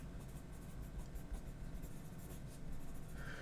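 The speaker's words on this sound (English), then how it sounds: "let me write that down" Pen scratches steadily across paper while notes are written by hand, close and quiet over a soft background hiss with no talking.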